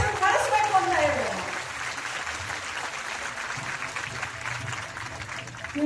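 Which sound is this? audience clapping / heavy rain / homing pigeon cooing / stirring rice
audience clapping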